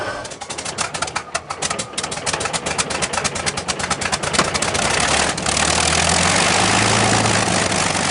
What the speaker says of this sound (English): this engine test is the most important occasion so far in the mighty